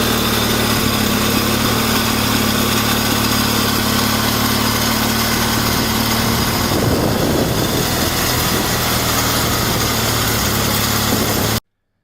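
A Simplicity 4041 garden tractor's Onan CCKB 19.5 horsepower cast iron opposed twin-cylinder engine drones loudly with a rough, throbbing idle and a brief swell in the middle, continuing until it cuts off abruptly.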